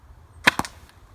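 A Pocket Shot slingshot fires ammo at a hat target, giving two sharp close snaps in quick succession within a quiet outdoor setting, with no talking.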